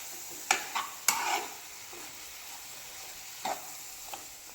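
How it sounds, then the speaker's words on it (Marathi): Jaggery melting in a pan over a medium flame, stirred with a few scraping strokes over a soft steady sizzle, close and fairly quiet. "गूळ आता आपल्याला इथे व्यवस्थित मेल्ट होईपर्यंत व्यवस्थित मिक्स करत राहायचं आहे"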